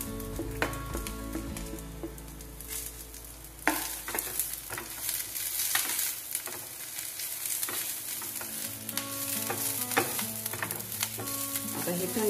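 Spices dry roasting in a pan with tamarind, ginger, curry leaves and green chilies, giving a soft continuous sizzle broken by repeated scraping and stirring clicks of a spatula, with no talking.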